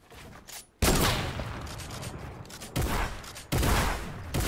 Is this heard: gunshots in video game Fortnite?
yes